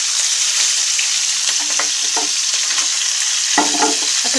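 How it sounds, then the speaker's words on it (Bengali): Big fish head pieces sizzle steadily in hot oil while being turned and stirred, with scraping touches from the spatula over a constant crackling fry and no voices. "এক এক পাশ করে ঘুরিয়ে ঘুরিয়ে খুব সুন্দরভাবে ভেজে নিতে হবে।"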